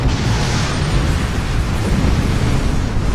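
A Galor-class ship's self-destruct explosion in Star Trek Online roars as a loud, sustained, rumbling blast, a dense wall of noise with no voices over it.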